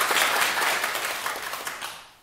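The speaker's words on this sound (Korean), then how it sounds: "박수 한번 부탁드릴게요." Audience applause in a lecture hall: a dense, steady wash of many hands clapping at close range, holding strong for about two seconds before fading out at the end, with no talking over it.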